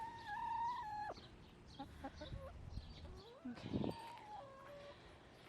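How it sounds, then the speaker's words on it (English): A hen clucks in a backyard garden flock, giving a run of short, fairly close calls and squawks with a brief bit of speech among them. "This is our mama hen right here."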